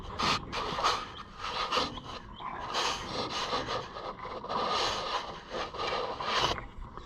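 Rubber fuel line hose worked onto a fitting on a Cushman Truckster, giving continuous close scraping and rubbing with rasping bursts throughout.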